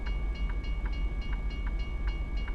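A train passes close by a truck with a loud, steady rumble and a regular clicking of wheels on rail joints, with no talking.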